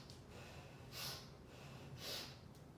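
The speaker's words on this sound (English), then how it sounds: "So it's like sniff, sniff, sniff, big exhale." Breaths during a yoga breathing exercise: two strong airy sniffs or puffs about a second apart, close and fairly quiet, with no talking.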